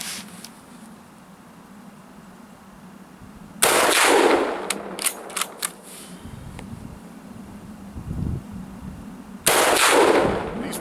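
Mosin Nagant M91/30 rifle firing 7.62x54R brass-cased rounds outdoors, loud sharp reports with echoing tails and a few quick smaller cracks between, separated by quiet stretches of background hum, no talking.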